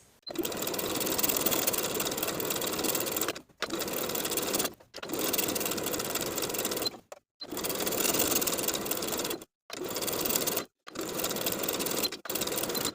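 A sewing machine understitches binding to the seam allowance around a pajama blouse, running in steady bursts of a few seconds each with short pauses between, close and fairly loud, with no talking.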